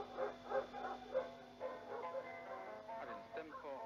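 A puppy gives a run of short, high yips and whimpering barks at a quiet indoor level, with a steady hum underneath.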